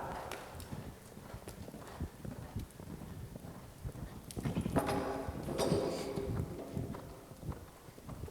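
Horse hooves clip-clop rhythmically during a ridden schooling exercise, a quick series of near hoofbeats that grow louder midway, over faint background noise.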